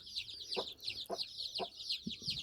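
Chickens and nine-day-old chicks in a backyard coop: a steady chorus of high chick peeps runs throughout, broken by a few short, low clucks from a hen at close range.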